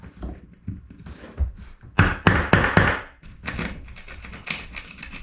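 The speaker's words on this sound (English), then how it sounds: "I have to do a little chisel work for the hinge here." Chisel cutting a hinge recess in plywood during a wooden boat restoration, a series of sharp knocks and mallet taps, a few soft then a cluster of loud close strikes, followed by lighter scraping.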